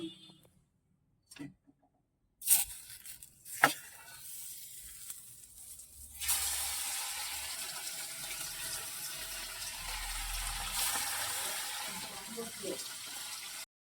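Parshe fish fry in hot oil, a loud steady crackling sizzle that starts abruptly after a few knocks and clatters and carries on without pause.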